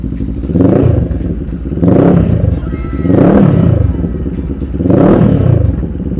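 A CFMOTO CL-X700 motorcycle engine revs four times in a regular rhythm, each loud close throttle blip swelling and falling back toward idle.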